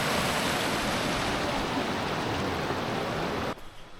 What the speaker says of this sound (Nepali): हाम्रो लुगुम गाउँको खोला, लुगुम खोला